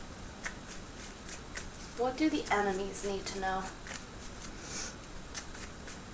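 Tarot cards shuffled by hand in soft, repeated riffling bursts, with a voice speaking over the middle of the shuffle.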